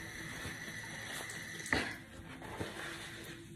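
Water runs softly from a tap while a green tea face mask is splashed and washed off the face, a faint continuous trickle with a brief louder splash midway.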